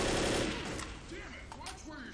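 Gunfire from zombie-survival video game Left 4 Dead, a dense burst of rapid shots that fades into scattered, lighter game noise, with a voice speaking over the action.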